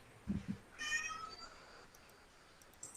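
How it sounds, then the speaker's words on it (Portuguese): A cat meows a few times at a door, close and fairly clear, with short calls and quiet room sound between them. "Deixa eu abrir a porta para minha gatinha aqui."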